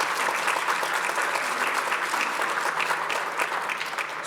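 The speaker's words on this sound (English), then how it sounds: "So let's give each of us a round of applause on that." An audience at the Downstate Honors 2023 ceremony gives a sustained round of applause, dense and steady clapping filling the hall from start to finish with no voices on top.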